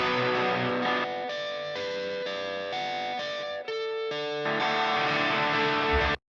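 An electric guitar plays a steady arpeggiated pattern, notes ringing in even succession with a slightly effected tone, alone without voices.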